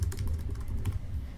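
Quick run of keystrokes on a computer keyboard as a file name is typed, close and fairly loud, with uneven rhythm and no voice.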